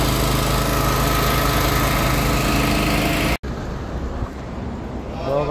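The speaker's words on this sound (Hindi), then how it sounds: "ये जनरेटर है और ये मशीन है।" A generator powering an airless spray painting machine on a flyover job runs loud and steady up close, its engine roar briefly cut off, then continuing more muffled with a rising whine at the end.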